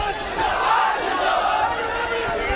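A crowd at a Bihar political rally cheers and shouts as Tejashwi Yadav arrives, a dense, loud roar of many voices with some clapping blended in, steady throughout.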